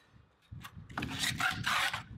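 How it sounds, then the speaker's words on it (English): The back of a trowel spreads an SBR and cement slurry across the underside of a flagstone, giving several close, gritty rasping scrapes in uneven strokes that grow louder partway through. "I didn't bring a roller, so I'm using the back of a trowel."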